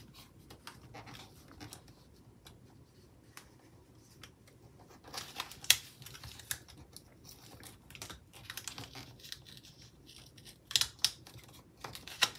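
Paper being trimmed for a planner spread makes soft, irregular snipping and crinkling sounds, quiet and close, with a few sharper cuts and rustles scattered through.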